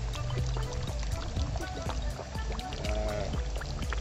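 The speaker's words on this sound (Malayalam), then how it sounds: "ഇവനെ ഇങ്ങനെ എണ്ണയ്ക്കകത്ത് കിടന്ന് തിളച്ച് പൊരിഞ്ഞിങ്ങോട്ട് വരണം" Beer-battered chicken pieces frying in hot oil give off a steady, close, bubbling sizzle with crackles and spits throughout, while a faint voice murmurs underneath partway through.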